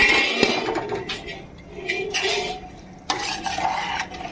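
Rice upma is stirred in a pan with a spoon, giving a series of scraping, clinking strokes against the metal and soft sizzling between them, close and fairly loud.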